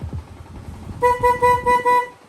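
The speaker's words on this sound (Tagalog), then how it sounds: "Tapos yung busina ni sir, ito po, no?" The horn of a Honda Sniper 150 motorcycle, whose wiring is being redone, sounds in four short nasal toots in quick succession after a moment of low handling noise, close and loud.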